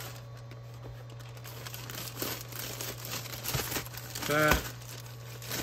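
Items slid into a crinkly envelope while packing sales orders, giving close rustling and crinkling that builds to a louder scrunch near the end, with a brief spoken word.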